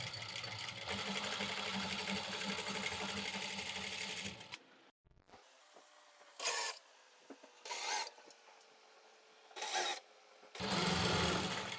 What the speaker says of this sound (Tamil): இதே போல் அப்படி லாங்காக தைச்சிக்கிறோம்.